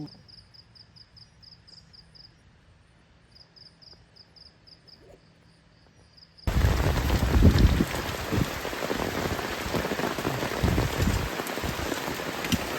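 Heavy rain pours down in a loud, steady roar with gusting wind while camping overnight in deep forest, starting abruptly after several seconds of quiet night insects chirping.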